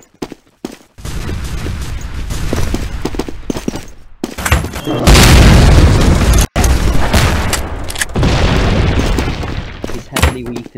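Cannon or artillery shots in a Crusades-era video game, repeated loud booming blasts with sustained rumbling roar between them, heavy and close, interspersed with other battle noise.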